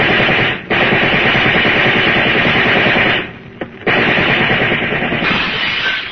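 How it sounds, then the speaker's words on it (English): Riot gun gunfire in an old 1941 radio crime drama, a dense continuous rattle of rapid shots, loud and close, broken by two brief pauses before resuming. "All right, men, open up with your riot guns."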